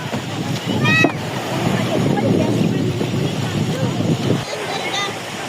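Sea waves washing against a motorboat on a slightly choppy ride between islands, a steady broad rush of water and wind noise with brief voices in the background.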